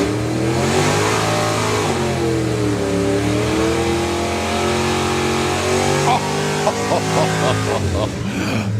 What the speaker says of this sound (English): lovely launch for Jason as well